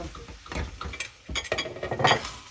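Vegetable pulao stirred in a pot with a utensil, giving scraping, clattering knocks against the metal in irregular bursts, close and moderately loud, with no voices.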